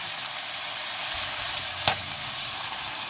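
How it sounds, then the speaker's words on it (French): Vegetables are tossed in a hot pan for a beef pad thai, a steady broad sizzle with one sharp clack of utensil on metal near the middle. "je fais sauter les légumes"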